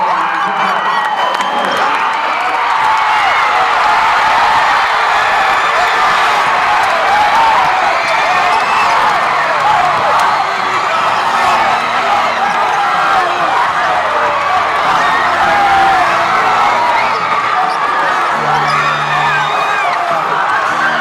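A crowd cheers and applauds at a Hornets team event, a dense, steady roar of voices, whoops and clapping that stays loud and continuous throughout.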